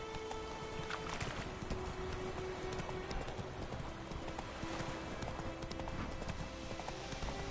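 Galloping hooves of the horse Roach in The Witcher 3 video game, a rapid rhythmic clip-clop continuing throughout under game ambience and music.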